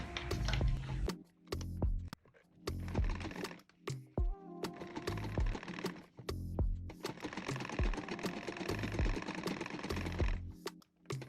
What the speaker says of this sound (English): So I'm just going to run my stitch on it, then flip it to the right side.